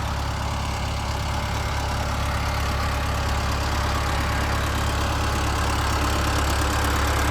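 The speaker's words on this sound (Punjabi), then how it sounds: "ਚੱਲ ਰਿਹਾ ਜਨਰੇਟਰ ਸਾਡੇ ਵਾਲਾ" Loud, steady running of a farm generator engine, a dense low rumble with faint knocking texture holding constant throughout, with no voices.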